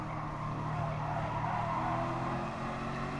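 A racing car in a video game trail braking into a Nordschleife corner, a steady engine roar with a rising tyre squeal, continuous and fairly loud.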